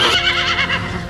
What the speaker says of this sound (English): Determination has brought the Arabian horse back home,